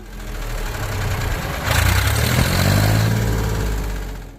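A Massey Ferguson 135 tractor's diesel engine running steadily nearby with a low, even rumble that swells slightly louder partway through, then eases off toward the end.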